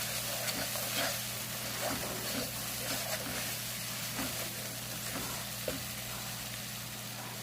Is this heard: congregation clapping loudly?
no